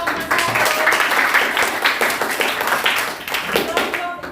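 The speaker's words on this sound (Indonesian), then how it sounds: "Ya, tepuk tangan untuk kelompok satu." Students in a classroom clap for a group that just presented, a dense patter of hand claps mixed with voices chattering over it.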